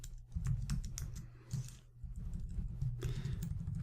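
Keystrokes on a computer keyboard entering a MySQL database command on a server, a steady run of close, crisp clicks with brief pauses between bursts.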